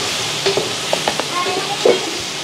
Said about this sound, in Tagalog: Yung contestant ng pulo natin ay isang kasalukuyang ginigisa yung kanyang sibuyas, bawang at luya.